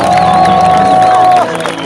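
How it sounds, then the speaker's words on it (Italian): A large outdoor crowd at a Giro d'Italia stage podium ceremony cheers and whoops loudly and continuously, with a sustained whistle or horn tone riding over the noise before it eases slightly. "Gli applausi per Johan"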